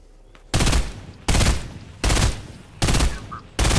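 Five loud, sharp gunshots ring out in a multiplayer squad shooter game, evenly spaced about three-quarters of a second apart, each one a punchy crack with a short tail.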